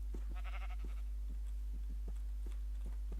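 A Minecraft sheep bleats once, a short buzzy call near the start, over a loud steady low hum and scattered soft clicks and footsteps.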